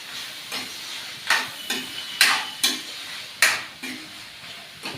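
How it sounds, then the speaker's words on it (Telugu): Mutton pieces frying with salt in a pan, stirred in distinct, rhythmic scraping strokes about every half second to second over a soft background sizzle. "ఇది బాగా వేయించుకోవాలి"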